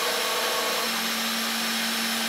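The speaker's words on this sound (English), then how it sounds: "So the spindle's now start cutting." A CNC3020 spindle engraving brass text makes a close, steady high-pitched whine with a sustained hum that holds unbroken the whole time.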